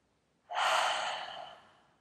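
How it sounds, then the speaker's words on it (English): A single breathy exhale through the mouth during prenatal yoga breathing, a sharp onset then a soft airy rush that fades over about a second and a half, close and clear with no talk. "Exhaling through the mouth,"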